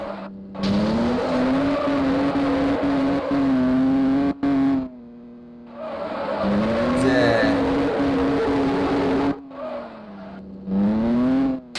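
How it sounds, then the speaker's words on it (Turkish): Volkswagen Golf drifting in the mobile racing game Golf Drift Simulator: a loud, steady engine drone that rises and falls in pitch across repeated drift runs, with brief cutoffs between slides and faint tire squeal. "Çarpmadan ne kadar drift yapabileceğiz?"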